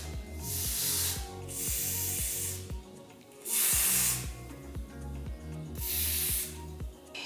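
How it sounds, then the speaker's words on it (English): Got2b hairspray aerosol sprayed onto hair edges in repeated short hissing bursts, about four spritzes, over steady background music. "So I'm gonna take my Got2b spray, just spray the edges."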